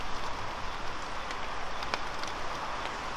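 Rain falling steadily in Kagura-oka Park, a dense even hiss of drops on leaves and ground with a few sharper nearby patters, no talking.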